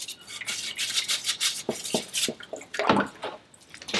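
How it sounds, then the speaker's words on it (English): A brush scrubs an outboard motor part that has been soaked in vinegar, giving quick, bristly, uneven strokes with wet, splashy touches and brief pauses between bursts, close and fairly loud. "This next one's the vinegar, which doesn't seem to have done much at all. But I'll give it a brush and see what happens."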